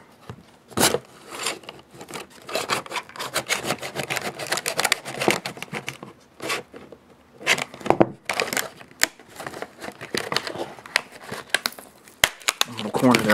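Plastic knife packaging crinkles and clicks as it is handled and turned over, giving irregular close crackles and snaps while someone talks over it.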